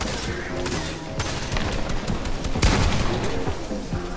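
Dense, loud gunfire rattles from several directions in a Meme Box PVP match, with repeated sharp shots and a heavier blast near the end, layered under busy game noise.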